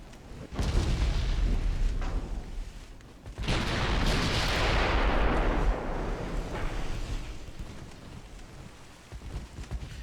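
Battleship secondary guns firing in the naval video game Ultimate Admiral Dreadnoughts, WW2 battleship combat: two heavy booming salvos with long rolling rumbles and splashes, then scattered lighter shots as the noise fades.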